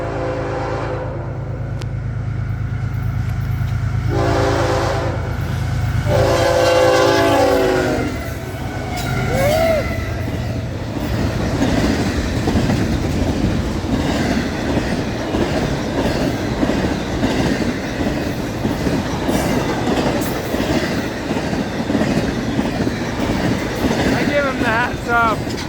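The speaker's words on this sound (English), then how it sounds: "This is the second northbound, the one out of Miami." FEC northbound freight train passing close and loud, with a horn blast early on and a steady rumble and rhythmic clatter of wagons that continue to the end, with people talking over it.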